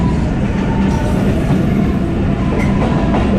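The Pakistan Express passenger train runs between Tando Adam and Multan, a loud, steady rumble of wheels on rails with faint rhythmic clatter throughout.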